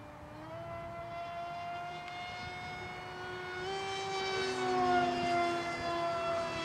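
A small RC flying-wing model airplane, a Mako Wing, whines steadily overhead, its engine pitch rising and shifting as it swoops and rolls, growing slightly louder toward the end.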